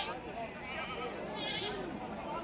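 Pregnant goats at a busy livestock market, with faint bleats rising briefly over a constant crowd chatter and people talking nearby.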